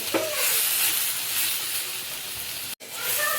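Soybean chunks sauté in masala in a pan with a steady, loud broadband sizzle. A brief stir scrape comes near the start, and the sound cuts out for an instant late in the clip before the frying hiss resumes.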